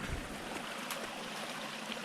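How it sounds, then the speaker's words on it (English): A rainforest stream and waterfall, a soft continuous rushing and trickling of water heard briefly and fairly faintly, with a small splash near the start. "I think we might have a waterfall coming up here."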